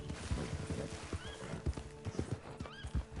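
Horse hooves clip-clop at a quick gallop in Red Dead Redemption 2, with a couple of short neighs and whinnies over the rhythmic thudding, fairly close and moderately loud.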